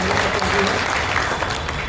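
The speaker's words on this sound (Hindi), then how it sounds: "एक बार जोरदार ताली बजाइए।" Audience applause breaks out at a youth club block coordinator election as candidate names are announced, a dense, steady clapping from a crowd that fills the whole short stretch.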